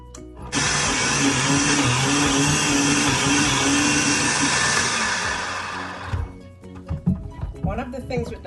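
A Vitamix blender roars loudly and steadily for about five seconds while coconut flakes are blended and pushed down with the tamper, then stops abruptly and a person starts talking.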